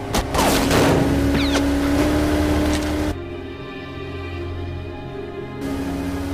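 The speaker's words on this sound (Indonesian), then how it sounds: "Dengan senjata M16-nya, polisi pelabuhan itu mencoba menghentikan Kevin." M16 rifle gunfire from a harbor police officer, heard as a burst of rapid loud shots over a droning boat engine and water noise, followed by a steadier engine hum, with no talking.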